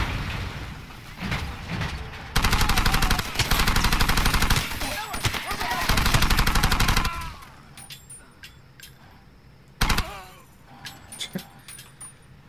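Vehicle-mounted machine gun in the video game Far Cry 2 rattling off a long, loud sustained burst lasting several seconds, then a second short burst after a pause, over engine noise.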